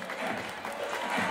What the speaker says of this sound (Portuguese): Os aplausos, solta o som, DJ.